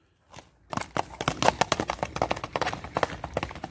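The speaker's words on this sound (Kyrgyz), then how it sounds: "Азыр чабып көрсөк болобу кыска аралыкка?" A horse gallops a short stretch, hooves striking in a quick, steady rhythm that starts after a brief quiet and stays close and clear to the end.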